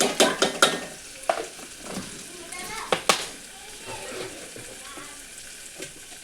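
Spices such as coriander and turmeric sizzling and being stirred in a hot pan, with intermittent scraping clatters and a soft crackle under a background of a voice talking.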